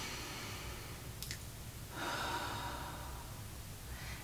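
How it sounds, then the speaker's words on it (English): Slow deep breathing during a meditation, a faint breath drawn in through the nose followed by a longer, soft whooshing exhale through the mouth, close and quiet. "Going to take some initial deep breaths and just in through the nose, out through the mouth."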